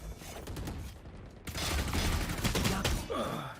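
A Spectre submachine gun fires rapid bursts in the video game Valorant, loud and close, with a brief pause before a denser stretch of automatic fire.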